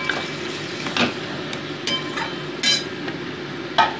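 Green chili and ginger paste, ground on a stone slab, sautéed with fried prawns and potatoes in a pan: a soft continuous sizzle under repeated sharp scrapes and clinks of a spatula against the pan.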